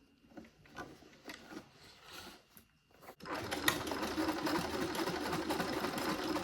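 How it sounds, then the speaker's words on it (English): A sewing machine stitches crochet appliques onto a denim jacket, starting with a few soft mechanical clicks and brief bursts, then running in a continuous, steady whirring drone. "I just need to sew them down. I think my machine is probably not gonna like this"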